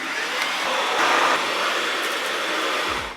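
Household vacuum cleaner running indoors, a steady airy whine and hiss at moderate volume, rising slightly in the middle and cutting off at the end, with faint knocks along the way.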